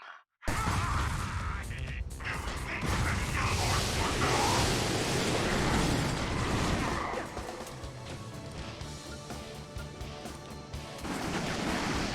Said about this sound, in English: Each Groovertron now comes with an explosive pyrocytic core. One push of a button and... kaboom!